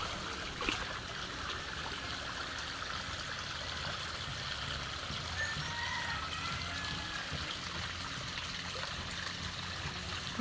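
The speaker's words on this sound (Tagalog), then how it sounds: "Tingnan na po ang tubig" A stream in Nakar flows in a steady, close rush of water with soft trickling, continuous and even throughout with no talk.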